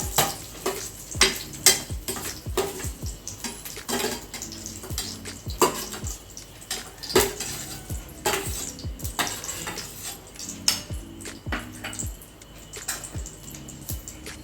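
Ingredients for bread halwa frying in a pan while a spoon stirs and scrapes, a steady run of clinking, scraping strokes over a soft sizzle, fairly close and with no talking.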